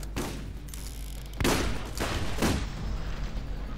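Enemy shotgun blasts in the video game Borderlands, two or three heavy booming shots about a second apart over a constant rumble of game noise, with no talking.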